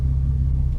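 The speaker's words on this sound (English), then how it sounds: "so the car just stalled" A manual-transmission car engine stalls after the clutch is let out too early, a loud, deep idling rumble lasting under a second that cuts off abruptly at the end, with no voices.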